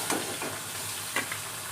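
Crab frying in oil in a pan for crab curry, a steady close sizzle with a few brief stirring scrapes breaking through.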